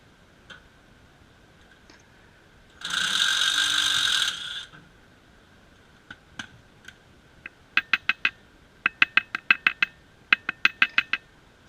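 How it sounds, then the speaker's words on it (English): A ratchet works loose a 9/16 top shackle nut on a leaf spring, giving quick bursts of sharp clicking in uneven runs, close and crisp, after a brief louder mechanical whir. "you only need to worry about taking off the top shackle nut, and it is a 9/16"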